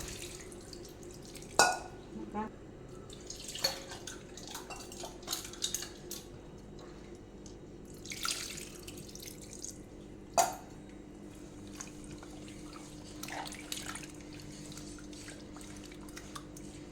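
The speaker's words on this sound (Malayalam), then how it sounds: "ഒരു ചെറുനാരങ്ങ വലിപ്പത്തിൽ പുളിയെടുക്കുക. അത് കഷ്ണത്തിലേക്ക് ഒഴിക്കുക." Tamarind water poured over pieces of stingray in a kitchen, a soft splashing trickle punctuated by a few sharp clinks of utensils and dishes, with no talking.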